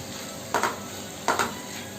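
A spoon stirs chopped onions with soy sauce in a pan, giving two short scraping strokes over a steady, low sizzling hiss.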